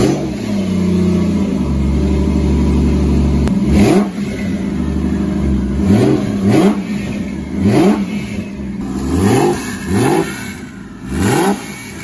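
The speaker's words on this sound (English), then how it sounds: "It now has a twin turbo Subaru EZ30R flat six. And where I'm at with the project is it's been started." A twin-turbo Subaru EZ30R flat-six fitted in a vintage Porsche 911 idles with a steady hum, then is revved repeatedly in sharp rising and falling bursts, loud and close.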